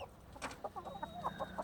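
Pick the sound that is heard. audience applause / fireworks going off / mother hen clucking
mother hen clucking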